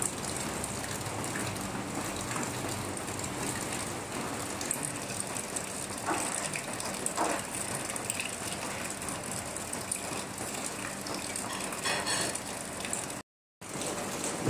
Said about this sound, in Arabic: من البارح أمطار غزيرة